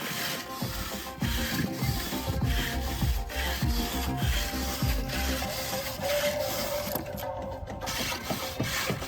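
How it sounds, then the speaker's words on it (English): Metal scrub brush scouring charred carbon off burnt wood for a raised garden bed, a steady, close, continuous rasping scrape with repeated strokes and no talking. "So after you need to get rid of the carbon that is outside of the wood. You do it with the metal scrub."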